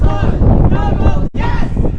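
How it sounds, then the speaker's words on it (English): Strong outdoor wind buffets the microphone with loud, rough rumbling gusts, briefly cutting out before resuming, with faint voices underneath. "So it's so windy,"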